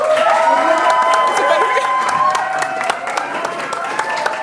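Festival crowd at Tartu Folk 2023 applauding and cheering, a dense continuous wash of claps and shouts that stays loud throughout, with whistles and voices rising above it before easing slightly near the end.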